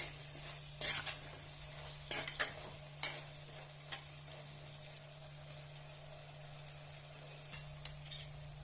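Egg and drumstick curry gets stirred in a pan, with sparse, quiet spoon scrapes and clinks over a low sizzle and a steady background hum.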